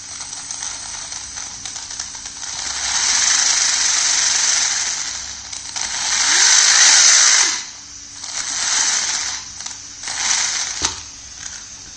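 The motor of an MJX Hyper GO RC car fitted with a Hobbywing 35 amp ESC spins its wheels in loud whirring bursts that rise and fall as the throttle is pressed and released.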